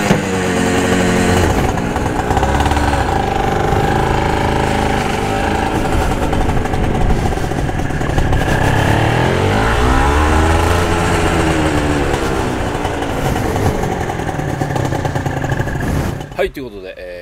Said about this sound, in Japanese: アイドリングしましたよ。